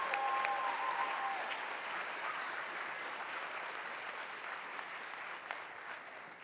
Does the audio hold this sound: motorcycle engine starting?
no